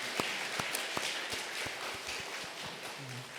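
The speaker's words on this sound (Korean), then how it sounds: "우리 하나님께 감사와 영광의 박수 한번 올리겠습니다" A church congregation at a Sunday worship service gives a round of applause, heard as a sparse run of distinct, fairly quiet claps spaced across the room rather than a dense roar.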